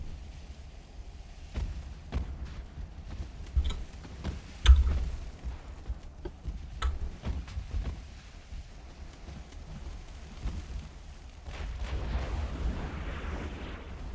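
Naval gunfire from battleships in the game Ultimate Admiral: Dreadnoughts, a string of sharp distant booms at irregular intervals over a steady rumbling sea-and-wind bed, with one heavier blast standing out midway.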